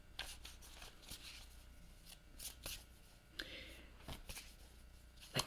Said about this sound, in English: just shuffling my deck